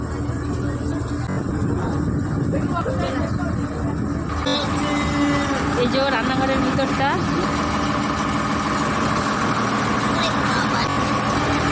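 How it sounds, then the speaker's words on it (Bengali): A launch's engine runs steadily throughout, a loud continuous drone heard from inside the boat's kitchen on a Sundarbans river trip near Jhorkhali, with a person talking over it. "রান্নাঘরের ভিতরে না প্রচণ্ড আওয়াজ হচ্ছে ইঞ্জিনের, মানে লঞ্চটা চলছে আওয়াজটা"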